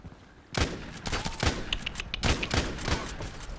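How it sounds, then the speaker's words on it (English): Gunfire in the shooter Contract Wars erupts after a quiet half second: sharp, repeated rifle shots in uneven bursts, fairly close and loud, continuing to the end. "Who's shooting there?"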